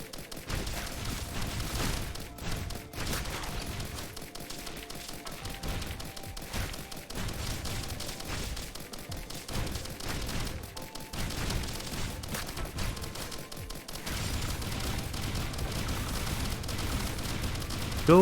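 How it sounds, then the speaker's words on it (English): Missiles fire in the Risk of Rain Returns video game as a dense, continuous barrage of overlapping blasts and explosions that stays loud for the whole stretch, with no talking. "Oh, how I love the amount of heckin' missiles I can fire off now."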